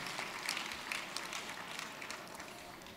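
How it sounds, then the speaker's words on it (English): An audience at an awards program applauds the speakers. The clapping is faint and distant, a steady patter of many hands that continues throughout. "Let's give our speakers one more round of applause."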